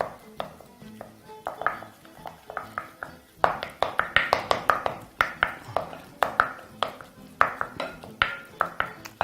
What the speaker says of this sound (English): give that a quick mix using a wooden spoon or your hands